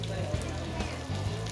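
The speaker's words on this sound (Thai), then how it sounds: "เราจะเอามาทอดนะคะเราจะมาทอดนะคะมันก็จะสีเหลืองสวยงาม" Onigiri rice balls frying in hot oil give a steady, dense sizzle throughout, with faint background sounds mixed in.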